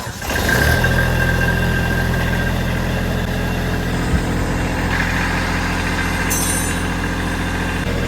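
A Kubota 2741 tractor engine with a battery problem runs at a steady idle, a loud continuous low rumble that holds evenly throughout, close by, with no talk.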